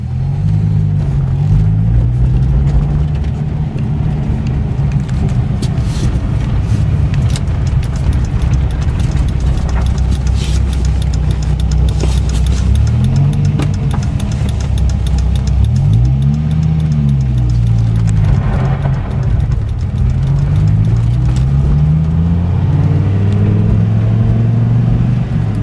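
A salvage 2003 Dodge Viper SRT-10 V10 drives with a loud, steady engine drone, the pitch rising and falling through repeated revs and shifts while road noise fills in underneath.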